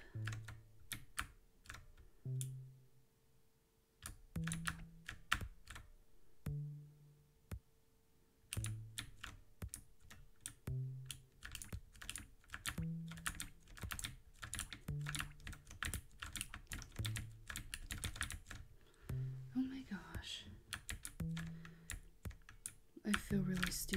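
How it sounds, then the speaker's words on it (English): Loud computer keyboard typing clatters in irregular bursts of rapid clicks, close and dry, with short pauses between runs while a person talks intermittently over it. "I need a keyboard that's not so loud."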